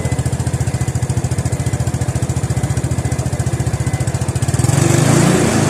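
A car engine idles during a tachometer test with a BrainBee MGT-300 EVO, its close, even exhaust pulses thumping steadily before a slight swell near the end.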